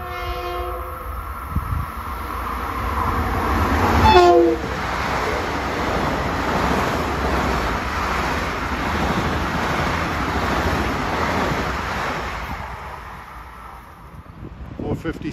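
A westbound Long Island Rail Road train passes Pinelawn station heading for Penn Station, its horn sounding briefly before a long, loud, steady roar of the passing cars that fades toward the end.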